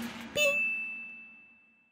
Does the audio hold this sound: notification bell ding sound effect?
yes